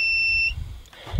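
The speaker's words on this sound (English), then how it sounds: "The inverter power, so you basically turn that on, you'll hear it beep in a second." A camper trailer's power inverter gives a single sustained high electronic beep as it turns on, followed by faint clicks and low handling thumps.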